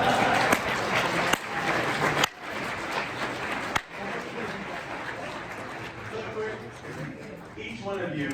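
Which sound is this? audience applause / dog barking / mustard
audience applause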